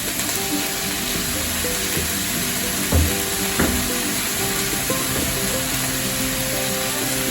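Sliced courgettes and onions sizzle steadily in a hot frying pan, a constant close hiss broken by a couple of soft clicks, probably from stirring.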